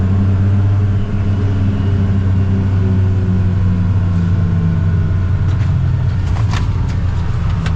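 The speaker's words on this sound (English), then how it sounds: "Get a bit of tire noise, of course." Steady loud rolling tire roar and low drivetrain rumble from a 2025 Polaris Ranger XD 1500 side-by-side driving, constant throughout with a few brief clunks near the end.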